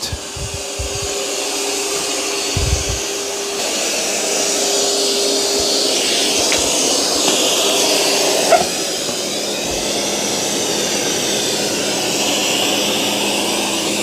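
A robot vacuum, a Dreame X40 Ultra or Eufy S1 Pro, runs over hair on carpet with a steady loud whirring motor drone throughout, plus a few brief knocks and clicks, with no talk.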